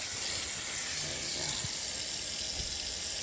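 Tap water runs steadily into a sink while turnip greens are washed, a constant hiss with a couple of soft low knocks from handling.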